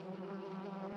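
Cartoon bees buzz steadily from a small beehive, a close, continuous drone with no talking over it.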